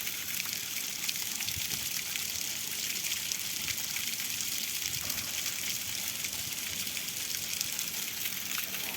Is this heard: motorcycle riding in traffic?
no